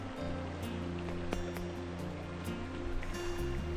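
A small, cold mountain brook trout stream in New Hampshire flows with a steady, even rush of water, continuous and fairly close, with no voices.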